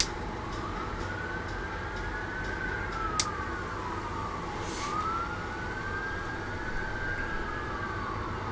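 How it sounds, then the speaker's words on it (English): Emergency vehicle siren wailing in rising and falling sweeps, moderately loud and steady throughout, with no talk and only a couple of brief sharp clicks along the way. "We go from airplanes to sirens."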